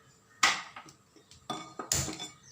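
An iron kadai and a saucepan are set down on a stove, giving three or four sharp metallic clanks and knocks with short ringing tails, close by and with no talking.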